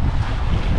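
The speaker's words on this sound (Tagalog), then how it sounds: "Kaya medyo pasok ho ang hangin." Steady, heavy wind roaring and buffeting the microphone on a mountain in Dilasag, Aurora, loud and continuous, with a low rumble like open water beneath it.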